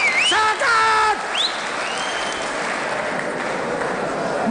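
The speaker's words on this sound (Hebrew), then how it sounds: "מוחאים מחיאות כפיים רק כשאני נותן הוראה, לפי הקצב שלי" An audience at a 1987 Independence Day show at the Hatzerim air force base breaks into sustained applause after a few brief voiced calls and whistles at the start.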